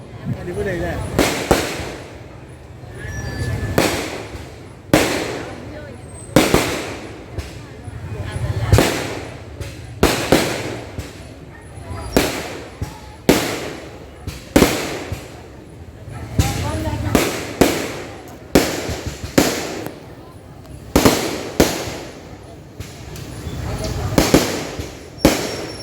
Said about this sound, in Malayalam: അത് കഴിഞ്ഞ തേവര് വരുന്നതിന് തൊട്ട് മുമ്പുള്ളൊരു ചെറിയൊരു വെടിക്കെട്ടാണ്, ഇത് സാമ്പിൾ വെടിക്കെട്ടാണ്.